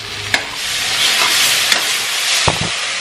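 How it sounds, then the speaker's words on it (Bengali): Spice masala stirred and fried in a pan, a steady close hiss of sizzling oil with a few sharp scrapes of the spoon against the pan, one early and a louder pair near the end. "দু তিনবার এভাবে কষিয়ে দেবে মশলাটা"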